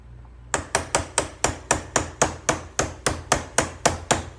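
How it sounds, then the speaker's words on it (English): A hammer strikes a steel punch about fifteen times in a steady, even rhythm to drift out the roll pin on a Sig 556 rifle's grip and safety. Each tap is sharp, close and loud, with no talking. "And we're gonna drift the roll pin right out. Doesn't take much, and it's out."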